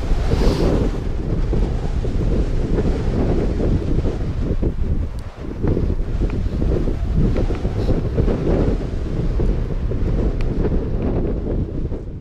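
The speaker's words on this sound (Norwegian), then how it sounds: "Når det blåser sånn som det gjør nå, så er det helt umulig å få sove." Strong mountain wind in Haukelifjell, Norway, roars steadily across a microphone with a churning, broadband rush, constant and loud throughout, with no voices.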